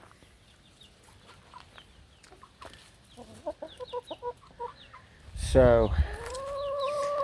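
Backyard hens cluck in a run of short soft calls that build into a loud squawking burst near the end, close by, with a brief spoken word at the start.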